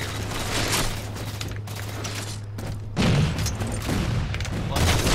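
Gunfire from the video game Halo 4, a sniper rifle among it, cracks through the clip in several sharp bursts over a steady low hum, with a louder blast near the middle and more shots after.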